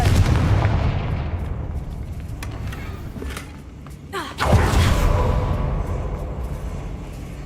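Confringo blasting spells going off in Hogwarts Legacy: a loud, heavy boom with a sharp crack near the middle, set against a steady low rumbling roar that persists throughout.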